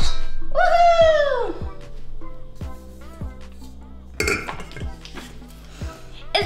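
Metal KitchenAid stand mixer accessories, including beaters and a bowl, clink and clatter as they are handled, with a few sharp knocks and rattles over a steady background hum, fairly close.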